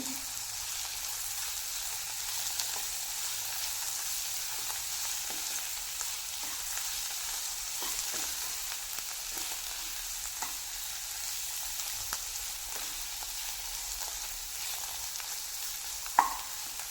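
Ridge gourd curry sizzling over a low flame in a pan while it is stirred, a steady close frying hiss with soft, irregular scrapes and one brief clink near the end.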